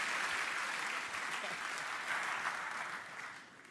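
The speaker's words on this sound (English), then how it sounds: "A big round of applause, please, for Cammy" Broad, sustained applause from an awards-night audience at a football league ceremony, steady and full for several seconds before tapering off at the end.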